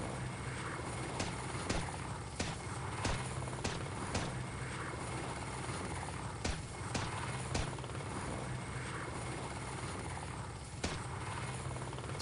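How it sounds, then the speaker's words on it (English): A helicopter in the 2002 PC military shooter Delta Force: Task Force Dagger thrums steadily throughout, a loud continuous rotor drone with occasional sharp clicks and thuds from gameplay layered on top. "This helicopter."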